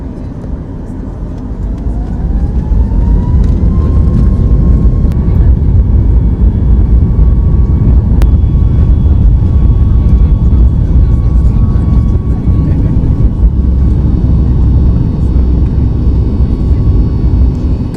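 A passenger airliner's engines roar loud and steady on the runway during a takeoff from England, spooling up with a rising whine that then holds as a constant drone under the cabin.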